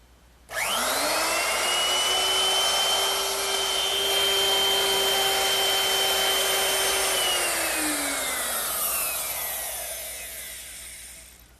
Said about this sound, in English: I'm going to use my router with a straight cutting bit and a fence